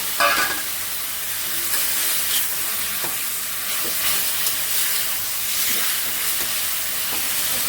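Pre-boiled hilsa fish cooking in a pan with spices, a loud steady hissing sizzle throughout with faint intermittent stirring scrapes, close up and unbroken by speech.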